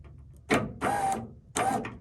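Electric tailgate motor on a Ford Bronco run directly from a 12-volt battery in three short jogs, each a brief whirring buzz of under half a second, close and fairly quiet, with silence between bursts.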